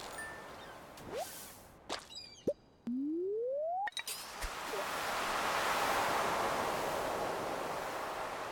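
Ocean waves in the Stardew Valley video game wash in as a broad, steady surf that swells after a few sharp game chimes and whip-like effects, continuing alone with no talking.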